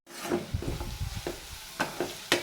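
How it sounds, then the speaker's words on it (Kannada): Vegetable curry tempering sizzles in hot oil in a home kitchen, with several sharp bursts of crackling and stirring scrapes over a steady low fry, close and moderately loud with no talking. "ಇವಾಗ ಒಗ್ಗರಣೆಗೆ ಹಾಕ್ಕೊಬಿಡ್ತೀನಿ."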